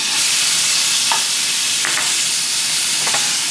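Butter and garlic frying in a hot pan give a loud, steady, close sizzle, with a few faint stirring clicks scattered through it.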